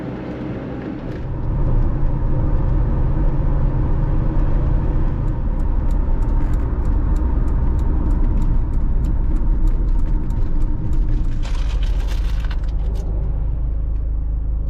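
A campervan drives along a narrow Scottish country road, its engine rumbling loud and steady throughout while a rapid, ticking rattle chatters on top, growing busier and harsher near the end.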